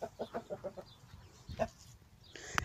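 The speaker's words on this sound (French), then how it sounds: "je vais lâcher les poules." Several short clucking calls from chickens in a quick rhythmic run, then a louder squawk, with scattered rustling and a sharp higher call at the end.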